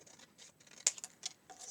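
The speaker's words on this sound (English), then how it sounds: "I'm going to take my scissors and I'm going to just trim off" Quiet scissors snip through card several times in short, crisp cuts, close by, with no voices.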